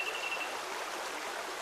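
Flowing water from a stone circle in a video game, a soft, steady trickling stream with a faint brief tonal beep at the start, quiet and continuous with no talk.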